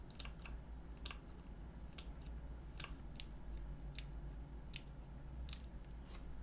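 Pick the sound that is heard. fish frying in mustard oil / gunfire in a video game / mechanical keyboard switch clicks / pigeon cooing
mechanical keyboard switch clicks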